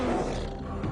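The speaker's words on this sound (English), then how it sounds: "Is the tiger's roar a gateway to an invisible world of communication and threat?" A tiger's roar, a deep, loud, sustained rumble that fills the short clip up close, with no talk.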